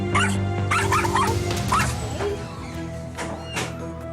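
A small rescued dog at an animal shelter barks in sharp bursts and whimpers between them, close and insistent, with faint background noise.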